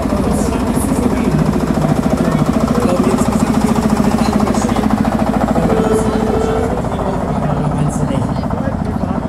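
A relatively modern tractor engine runs steadily at a cattle drive-down from the pasture, a loud continuous rhythmic chugging throughout, with people talking over it.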